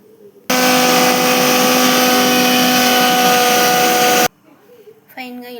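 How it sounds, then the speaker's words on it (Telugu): A mixer grinder grinds dried red chillies, salt and urad dal in a loud, steady whir lasting about four seconds, starting and stopping abruptly, with quiet kitchen noise around it. "మినపగుళ్ళు వేసేసుకొని మిక్సీ పట్టేసుకున్నాం"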